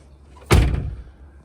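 A Tesla Model 3 car door shuts with a single solid thump, close and loud, followed by a brief rattling decay and then quiet.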